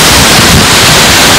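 Waterfall in Iceland heard from a spot right behind the falling water, a loud, steady broadband roar with wind buffeting the microphone, no talk over it.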